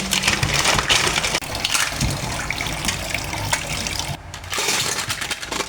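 Seafood being rinsed under running water for a seafood boil, a steady loud gush and splash from a tap with brief interruptions as the flow shifts.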